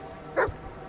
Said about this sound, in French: Oh le chien! Viens, chien!